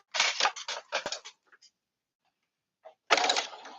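A sewing machine stitching a bodysuit in short rattling bursts, several quick close runs of needle clatter, a pause with small clicks, then another burst.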